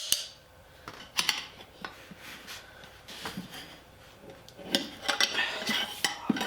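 Metal spoons clink and scrape as they lever a tire onto a trike wheel, with scattered sharp taps and brief scraping bursts at close range and no talk.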